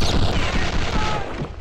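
Enemy soldiers firing rifles in the Return to Castle Wolfenstein shooter game: a dense, loud volley of overlapping gunshots and booms for under two seconds, with no voices.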